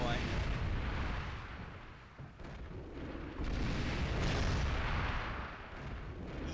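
Explosions from a video game running under the PCem PC emulator boom in a dense, continuous roar with no clear gaps, swelling louder around the middle and fading slightly near the end.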